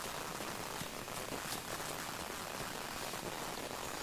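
Rain falling in the video game Monster Hunter World, a soft, even hiss of drops that stays steady throughout without voices.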